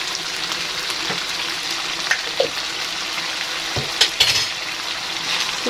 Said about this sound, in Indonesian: Setelah itu aduk-aduk sampai semuanya merata.